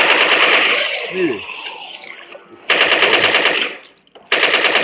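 Zombie shooting in the video game Dead Effect 2 sends out loud, rapid machine-gun bursts, firing in long rattling runs broken by short pauses, with a brief spoken word.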